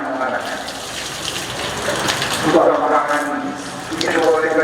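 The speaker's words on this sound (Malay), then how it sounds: "Sekarang kita nak ambil air wudhu dulu." Water from a tap runs steadily at a mosque ablution area, a continuous close gushing and splashing that swells slightly partway through and carries on throughout.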